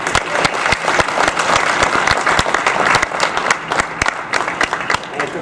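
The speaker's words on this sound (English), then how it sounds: "he deserves a big round of applause along with Jess and Dave." Steady applause from an indoor audience at a school winter sports awards night, a dense, continuous patter of many hands clapping at close range, filling the whole stretch without letting up.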